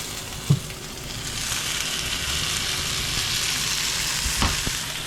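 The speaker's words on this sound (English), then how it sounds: "We're going to do that in a hot frying pan" Steady, even sizzling of garlic frying in a hot pan, with a couple of brief clunks as something drops in.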